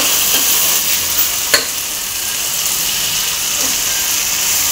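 Cluster beans frying and being stirred in a pan with tomato and onion give a steady, close sizzle, with one sharp clatter from the spoon partway through and no voices.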